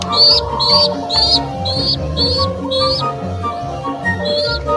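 Pigeons with their young in a racing-pigeon loft make a regular series of short, close, high chirping calls, about seven in quick succession, then a pause and one more, over low cooing and background rustle.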